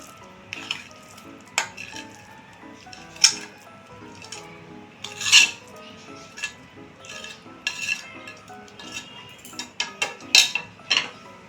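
Coconut and sugar mixture for narkel naru tipped into a pan, giving scattered metal clinks and scrapes of a spoon against the pan with soft shuffling between, up close and fairly quiet, no talking.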